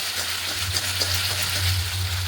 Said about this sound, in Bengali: এখানে সোয়াবিন আলুগুলো দিয়ে ভালো করে কষিয়ে দিচ্ছি